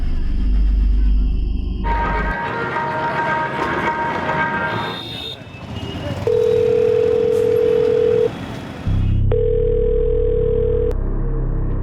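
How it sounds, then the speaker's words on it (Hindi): Ringback tone heard when calling a mobile phone: two long, steady electronic beeps separated by a short gap, following a stretch of busy background noise and tones. "सोनू का मोबाइल स्विच ऑफ नहीं है सर, रिंग तो जा रही है।"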